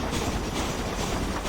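A train rolls steadily along the tracks in the Red Dead Redemption video game, giving a continuous rumbling clatter of wheels and wagons at close range with no talking.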